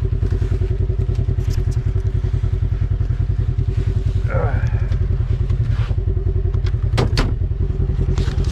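A Polaris RZR Highlifter side-by-side idles close by with a loud, steady, throbbing engine rumble throughout, briefly rising in pitch once before a couple of sharp clicks.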